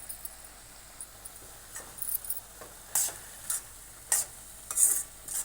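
A sweet carrot mixture cooking in ghee is stirred in a pan, with a faint sizzle beneath irregular, sharp scraping strokes that come every half second to a second, close and clear with no voices.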